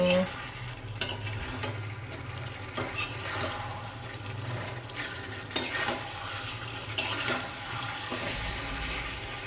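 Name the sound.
masala frying in oil in pan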